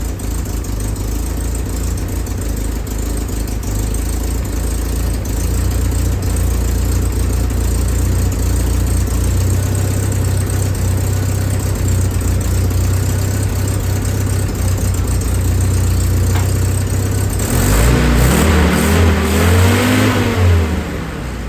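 An M38A1 jeep engine after a tune-up idles with a steady low rumble for a long stretch, then revs up near the end, loud and close.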